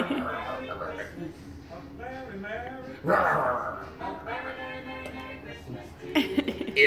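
A small dog barks and yips in short bursts amid people talking nearby, with a louder yelp toward the end.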